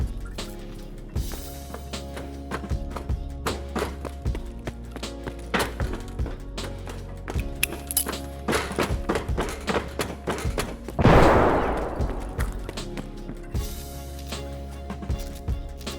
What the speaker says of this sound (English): I throw a grenade ahead of time to push any players out of the hall or kill them